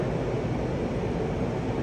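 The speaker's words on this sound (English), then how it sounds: "So you can hear the fan directly" A UV Phantom ceiling-mounted air purifier fan runs at maximum speed, open in a lab, producing a steady broadband airy whoosh with a low rumble, constant and even throughout.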